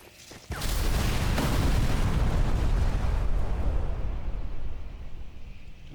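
In the Sniper Elite 4 video game, a satchel charge detonates at an ammo store, a sudden loud blast followed by a long roaring rumble that slowly fades, with no talking.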